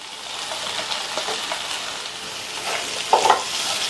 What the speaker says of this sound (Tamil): இந்த மசாலாலையே முள்ளங்கியை 2லேருந்து 3 நிமிஷத்துக்கு நல்லா சிம்மில் வச்சு வதக்கி விட்டுக்கோங்க